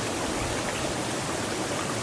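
Clean cold mountain stream in Glacier National Park, a steady broadband rush of flowing water heard close and continuous with no voices.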